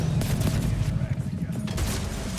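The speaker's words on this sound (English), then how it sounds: "This grenade is so ridiculous, dude" Grenade explosions in the Borderlands 4 video game go off in a dense, rapid barrage of booming blasts and gunfire-like cracks, loud and continuous, with a voice occasionally talking over them.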